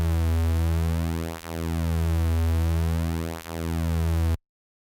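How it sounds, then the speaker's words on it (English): A reFX Vanguard2 synthesizer holds a single buzzy square-wave note whose pulse width is modulated, making the tone sweep and swirl slowly in a steady loop before cutting off abruptly. "if I turn the modulation up, this is what it sounds when you modulate the pulse width"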